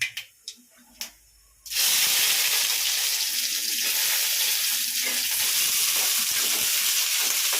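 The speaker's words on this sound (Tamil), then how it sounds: "இந்த வெங்காயம் போட்டு வதக்குறேன்" Onions and curry leaves hit hot oil with mustard seeds and pepper in a pan for crab thokku, a few clicks and taps first, then a sudden loud, steady sizzle that carries on.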